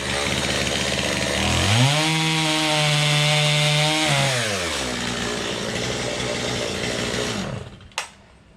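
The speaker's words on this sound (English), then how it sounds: "that was my last chainsaw session of this winter season" A chainsaw roars nearby, revving up to a sustained high whine, then dropping back to idle before cutting off with a clunk.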